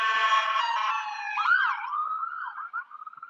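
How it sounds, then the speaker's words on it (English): A wailing ambulance siren sweeps up and down in clear, loud tones that dip and waver as it passes, heard alone with no voices. "That's the ambulance."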